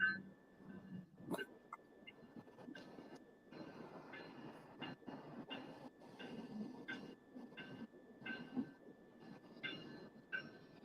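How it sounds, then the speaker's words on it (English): A train moving along a railway track, heard at a steady middle distance with repeated rhythmic clacks and rattles from the cars, plus a thin constant high tone running throughout. "we got another train"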